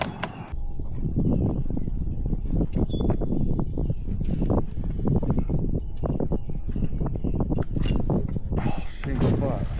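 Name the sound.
birds chirping outdoors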